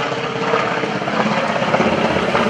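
A World War II FG Corsair fighter with a gull-shaped wing flies at a naval air station airshow, its propeller engine a loud, continuous roaring drone with no speech.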